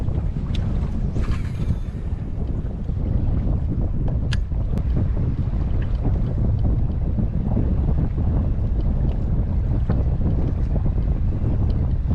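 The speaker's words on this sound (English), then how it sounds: "It's supposed to be east, and it is a west wind." Strong west wind buffets the microphone on a lake from a kayak during a fishing tournament on the Harris Chain, a constant loud rush with gusts and faint water lapping.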